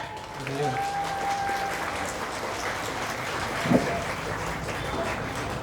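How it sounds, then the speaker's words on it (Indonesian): An audience at a Wonosobo performing-arts showcase applauds a performing group, a steady, diffuse patter of clapping heard from a distance, with a host speaking over it. "Boleh tepuk tangannya sekali lagi yang lebih meriah?"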